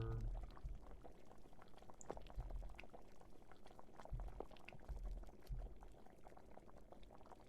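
Continuous bubbling pour of liquid in the video game The Sand Man, gurgling and sloshing at a quiet, even level with a few low bumps scattered through, no voices present.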